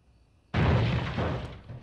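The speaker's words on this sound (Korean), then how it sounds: "누군가가 폭발력 강한 폭죽으로 우편함을 망가뜨려 버렸는데요" A powerful firecracker blows up a mailbox: after a quiet moment, a single loud, sharp blast bursts out nearby and trails into a rumbling decay.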